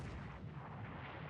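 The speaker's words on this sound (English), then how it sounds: "it looks like he's bombing our battleships" Low, rumbling artillery-style blasts from a bombing attack on battleships in the War in the Pacific strategy game, a dense, muffled barrage of booms rolling continuously at moderate volume without any voices.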